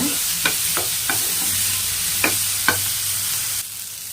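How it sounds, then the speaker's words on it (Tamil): Two tomatoes sautéing in a pan, a steady close sizzle with a few scraping stirs of a spoon at irregular intervals, no voices. "சேர்த்துட்டு இதையுமே நல்லா வதக்கிக்கோங்க"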